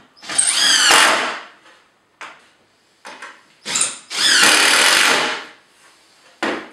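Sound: power drill driving screws into trestle side pieces

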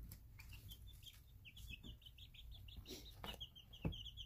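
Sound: chickens chattering and clucking in a brooder

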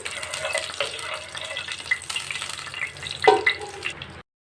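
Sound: mustard seeds, cumin and peppercorns frying lightly in oil

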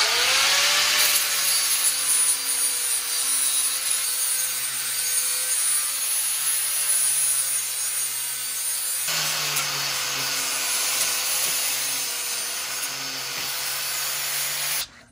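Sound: sanding motor mounts with a 120 grit sanding disc

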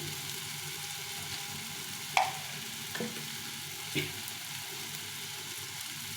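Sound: pumpkin with chickpeas and peanuts frying with spices in pan

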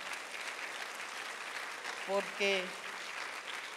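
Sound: audience applause in church

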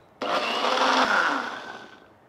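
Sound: mixer grinder blending yogurt into chicken cutlet chutney

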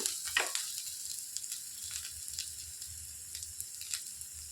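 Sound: curry leaves frying in oil

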